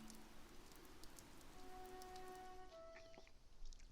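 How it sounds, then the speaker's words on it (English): Steady rain falls in the Fire Emblem Three Houses video game, a constant hiss of drops on surfaces with faint musical tones drifting underneath. "This rain threatens a coming storm."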